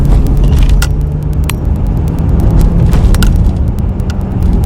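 A car driving along a road, recorded from inside, with a loud constant engine and tire rumble and a few sharp ticks and knocks from the cabin, with no talking.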